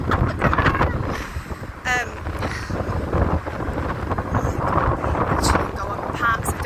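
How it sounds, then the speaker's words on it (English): Gusty wind buffets the microphone outdoors beside a frozen, icy canal in winter, a steady rumbling roar throughout with louder swells, while someone talks over it. "You can just hear the wind."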